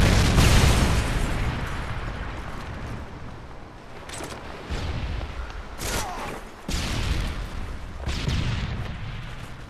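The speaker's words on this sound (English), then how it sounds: "Friendly predator missile inbound." Predator missile strike in a multiplayer shooter game, heavy booming explosions arriving in several broadband bursts over a rumbling low roar, loud and close.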